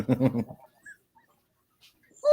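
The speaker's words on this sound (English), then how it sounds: "That's a dog" A dog gives a short, high whine or yelp near the end after brief talk and a quiet stretch, close and fairly loud.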